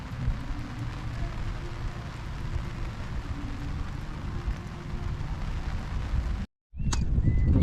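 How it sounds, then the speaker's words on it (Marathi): Rain falls steadily on a fog-covered hillside, a dense even hiss broken by a short gap near the end, with wind buffeting the microphone. "परत पाऊस येण्याचा विचारत आहे आणि आला"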